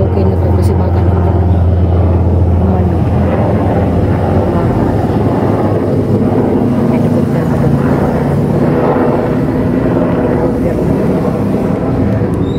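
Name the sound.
helicopter flying overhead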